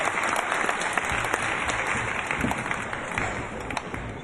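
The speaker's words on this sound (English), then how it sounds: "Let's give them one more round of applause." Enthusiastic audience applause at the 2009 Glendale student showcase, a dense, loud wall of clapping from a full room that holds steady throughout.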